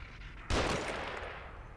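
Enemy gunfire from a shotgun or sniper rifle in the horror video game The Evil Within: one sudden, loud, close blast with a long rumbling, reverberant tail fading over more than a second.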